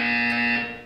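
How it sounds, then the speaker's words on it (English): A single harsh electronic buzzer from the video game Portal 2 sounds close and loud for under a second, a steady harmonic tone that fades at the end. "You will hear a buzzer."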